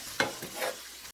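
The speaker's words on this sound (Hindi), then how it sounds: "देखिए सारा मसाला अच्छे से भुन गया।" Masala for chicken 65 frying in a pan while being stirred, heard as several scraping strokes over a soft sizzle, ending with a sharp click.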